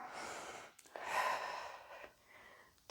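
Deep, audible breaths during a core exercise workout, several long inhales and exhales close to the microphone, with short pauses between them.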